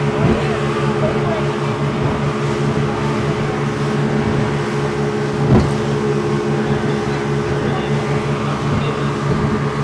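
A motorboat engine drones steadily on a departing boat ride near Pattaya's Coral Island, a constant loud hum throughout with a brief bump midway.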